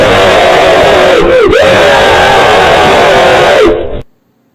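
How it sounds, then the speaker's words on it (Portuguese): A long, loud wailing scream of pain and horror, like a child's, rises and holds for several seconds in a dramatized reading of Poe's Black Cat, wavering in pitch before cutting off abruptly into silence. "Era um grito, como de uma criança. Rapidamente ele cresceu em um longo grito de dor e horror."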